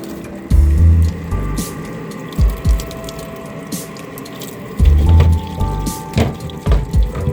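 A car coolant expansion tank is rinsed under running water, with gushing bursts and splashes in uneven spurts, short sloshing knocks and drips between, close and without talk.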